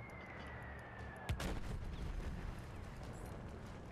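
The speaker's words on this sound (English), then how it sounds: "Somebody's trying to drop bombs on my ass." In Battlefield 1 gameplay, a bomb thuds down as one sharp, close blast with a rumbling tail, set over steady distant battlefield noise.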